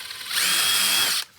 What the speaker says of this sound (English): I'm drilling the holes all the way through, so I'm making 2 holes in the pipe one way